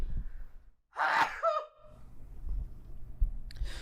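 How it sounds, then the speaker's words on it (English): A single sharp sneeze bursts out close up after a brief silence, followed by quiet background shuffling. "I'm going to sneeze"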